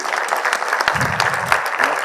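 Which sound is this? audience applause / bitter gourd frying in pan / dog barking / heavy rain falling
audience applause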